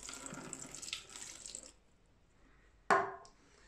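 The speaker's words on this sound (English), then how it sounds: "Just rinse this under your tap." Coffee maker parts, the helix chamber and plunger, are rinsed under a kitchen tap. Close running water splashes for a couple of seconds and fades, then a brief sharp burst of water follows.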